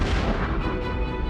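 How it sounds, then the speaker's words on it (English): A supernova explosion sound effect: a deep, heavy rumbling boom that fills the whole short clip, loud and sustained with a rough, roaring texture. "They die in some of the most violent explosions ever to rock the universe."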